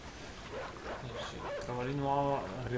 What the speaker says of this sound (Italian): Adesso il cane ci ha sentito e parte la scena dell'inseguimento.